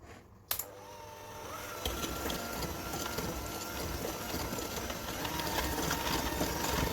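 Electric cake mixer creaming butter, shortening and sugar for chocolate chip cookies: a steady, loud motor whir with a rattling, churning texture that runs continuously and close by.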